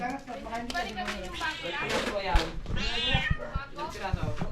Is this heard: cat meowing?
yes